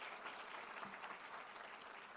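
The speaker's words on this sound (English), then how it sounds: "Can we have a huge round of applause once again?" An audience at a finance leadership event applauds steadily, a dense, sustained clapping that fills the whole stretch at an even level.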